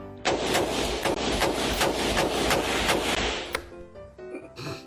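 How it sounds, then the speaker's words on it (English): An AR-15 rifle fires a rapid burst of loud, closely spaced shots for several seconds, each crack ringing together into a continuous roar before stopping abruptly with faint echoes. "is what an AR-15 sounds like"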